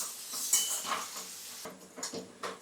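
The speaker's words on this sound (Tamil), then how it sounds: "அந்த தக்காளியை போட்டு இதில் வதக்கலாம்" Chopped onion and tomatoes are sautéed in a pan for a drumstick gravy, with close utensil scrapes and metallic clinks over soft sizzling.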